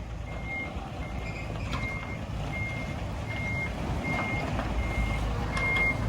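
A trailer truck reversing to dump sand in a tight, slippery spot, its reversing alarm giving a steady series of evenly spaced beeps over a loud low diesel engine rumble.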